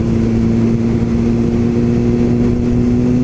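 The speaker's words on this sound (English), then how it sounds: "we're basically on a street legal racing bike" A street legal racing motorbike engine holds a loud, steady drone close by, a constant revving hum running unbroken from start to finish with no voices.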